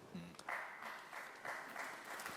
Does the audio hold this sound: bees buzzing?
no